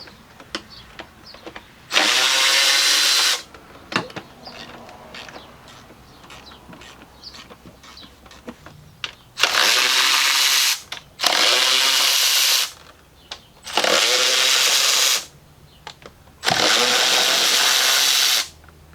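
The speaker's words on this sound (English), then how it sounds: "Next, I'm going to start removing all of the bolts that are holding down the intake manifold" An impact-style power tool zips out 8mm intake manifold bolts on a 2018 Jeep Grand Cherokee 3.6L Pentastar engine, coming in four loud, sustained whirring bursts of one to two seconds with quiet gaps between them.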